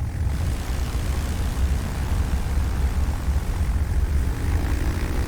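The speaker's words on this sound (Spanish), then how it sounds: "Goering alinea a 600 bombarderos Dornier, Heinkel y Junkers." Engines of massed WWII German bombers (Dornier, Heinkel and Junkers) in 1940 make a loud, steady droning roar with a deep, continuous rumble and no breaks.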